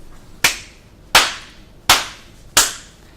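Four sharp, isolated claps sound at an even pace, each a crisp, loud burst that decays quickly. They come from a concert audience applauding, though here they are sparse rather than a full crowd.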